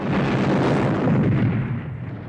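Cannon fire in a Napoleonic-era battle at Waterloo: a sustained, loud, rumbling roar of artillery blasts blending into one continuous boom that fades slightly at the end, with no voices.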